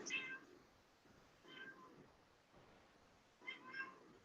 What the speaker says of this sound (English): My cat is driving me crazy.